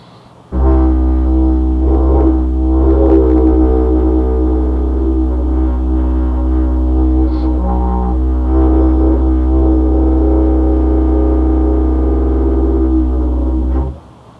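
A deep, sustained didgeridoo drone, loud and steady, with rising vocalized yelps and wavering howl-like tones layered over it, imitating a dingo barking and howling.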